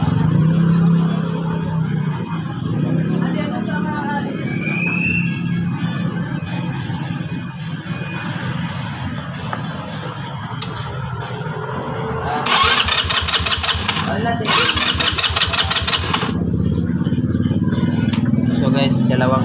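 Repeated attempts to start a Motorstar 150 motorcycle that won't run after a CDI swap, with bursts of electric starter cranking near the end; someone talks over it throughout.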